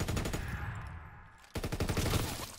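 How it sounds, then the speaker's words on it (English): Rapid automatic gunfire in the World War II shooter Call of Duty: WWII, a steady rattling burst that drops out briefly and then resumes loud and dense, with no talking over it. "Enemy shooting."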